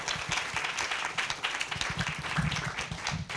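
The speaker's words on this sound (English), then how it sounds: "Can we have a round of applause, please?" An audience at an evening book event with novelist Katherine J. Chen claps together, a dense, steady burst of applause that fills the room for a few seconds with no pause.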